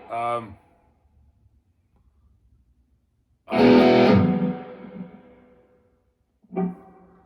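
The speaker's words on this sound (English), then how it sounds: "You'll hear that the reverb is quite intense, and it's screwing up my pick harmonic" An electric guitar rings out in a few separate bursts, each chord or note trailing off into a long, washed-out reverb tail with silence between.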